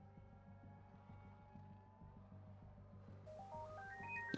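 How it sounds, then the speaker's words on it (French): A phone ringtone chimes in a rising stepped melody, faint at first and then clearer over the low drone of F1 Manager 23 race-engine audio, with no talking. "Ok, excusez-moi, le téléphone a sonné."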